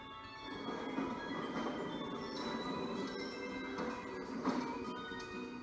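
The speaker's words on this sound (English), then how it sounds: "The train to the Isle of Armor has arrived." A train pulls into a station in the video game Pokemon Shield, a steady rolling rumble with faint metallic squeals and clanks rising and fading over it.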